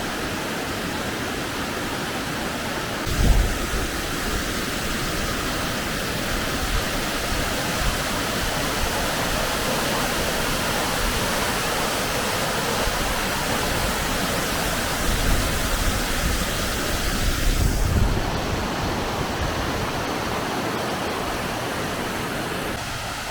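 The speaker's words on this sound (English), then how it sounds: "This is Fossa, which is the tallest waterfall in the Faroe Islands." Fossa, the tallest waterfall in the Faroe Islands, giving a steady, full roar of falling water that stays close and constant throughout, with a couple of brief handling bumps and no talk.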